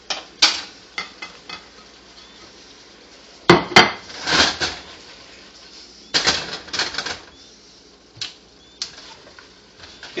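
Vegetables and chestnuts are tossed in a pan for bacon chicken chow mein, with intermittent bursts of scraping, rattling clatter and soft sizzling separated by quieter pauses.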